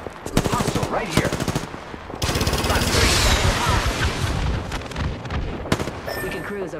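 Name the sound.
gunfire in a battle royale video game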